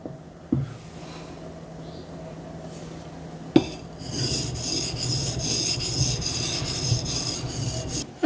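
A Japanese deba knife is sharpened on a whetstone. Quiet gritty rasps come first, then steady back-and-forth scraping strokes, with a few sharp clicks from the blade or stone. Nobody speaks.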